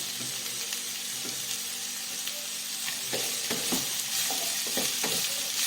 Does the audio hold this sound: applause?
no